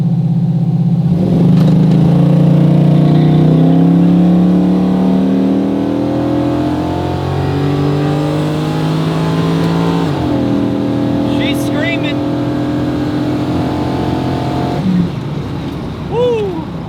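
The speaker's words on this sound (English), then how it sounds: "just try rolling into the throttle and seeing how that does" A Buick Regal accelerates hard from a standstill on the street, its engine rising loud and close through climbing revs, easing at a shift near mid-clip, with brief voices near the end.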